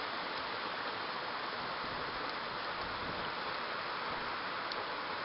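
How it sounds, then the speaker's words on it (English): Heavy rain pours down during a big summer storm, a dense, even hiss of falling water that holds steady throughout at moderate level with no voices. "It's pouring."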